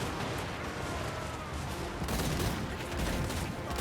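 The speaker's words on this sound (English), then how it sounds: "And when they fire, it's like a rotating cannon." Hellblaster volley guns of the Empire army firing in the Total War Warhammer video game, a dense, continuous rumbling barrage of overlapping cannon-like blasts that swells slightly halfway through, with no talking.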